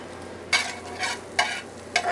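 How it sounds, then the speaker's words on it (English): Food sautés in a hot pan with a constant low sizzle, broken by three or four loud scraping bursts of stirring at roughly even intervals. "We're going to let that saute"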